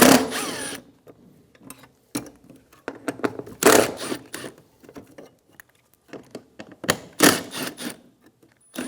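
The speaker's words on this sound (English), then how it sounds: "Using a Phillips head bit, remove all of the screws for the fog light housing." A power driver with a Phillips bit backs out the fog light housing screws on a 2013-2017 Honda Accord bumper cover in several short whirring bursts separated by quiet pauses, up close.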